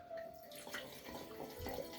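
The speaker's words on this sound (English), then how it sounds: "Pour a little in the glass and have it at the end here while I wrap up this case." Wine poured from a bottle into a glass, a soft liquid gurgle and trickle lasting a couple of seconds, close and fairly quiet.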